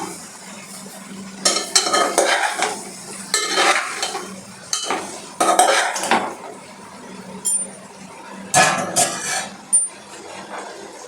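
Okra curry in a pot being stirred in short scraping bursts of spoon against metal over a soft simmering sizzle, close and fairly loud, with no talk.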